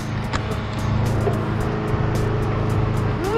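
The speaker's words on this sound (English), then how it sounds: "Sorry for the noise. Lawnmower's in the back," A lawnmower runs in the background outside, giving a steady, broadband engine drone that holds at a constant level throughout with no voice over it.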